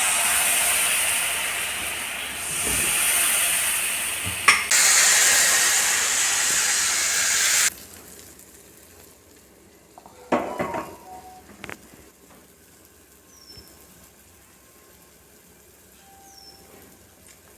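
Appam batter poured into a hot pan sizzles with a loud, steady hiss that stops abruptly, followed by quiet clinks and a few faint metallic knocks of a lid or ladle.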